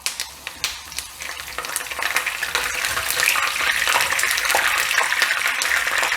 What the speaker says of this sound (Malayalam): നമുക്കിനി ലാസ്റ്റായിട്ട് കുറച്ച് വേപ്പില ഇതിലൊന്ന് വറുത്ത് കോരാം